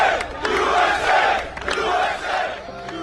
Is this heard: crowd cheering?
yes